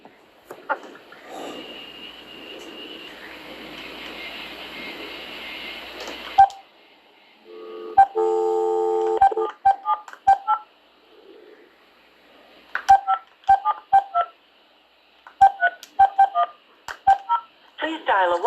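Telephone keypad tones beep in quick bursts of several presses with short pauses while a caller dials a number, following an earlier stretch of noisy line hiss and a steady tone.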